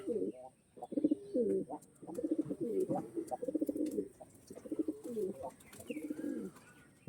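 Open-tailed pigeons coo in repeated soft, throaty phrases close by, with short pauses between bursts and faint chirps in the background.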